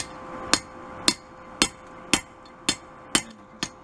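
Seven sharp metallic hammer strikes on an anvil ring out at a steady, even pace as steel is forged for a chef's knife, each with a short bright ring over a faint background hum.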